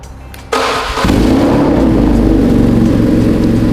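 A BMW nineT Paris Dakar motorcycle engine starts up close by, catching after a short crank and then settling into a loud, steady idle with a deep rumble.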